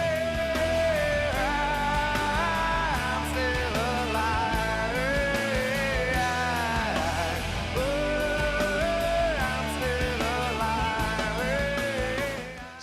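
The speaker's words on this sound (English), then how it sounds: "So you've got that whole chorus of "I'm still alive,"" The chorus of a song plays as a full rock band track with sustained melodic vocals over dense guitars and drums, loud and continuous throughout.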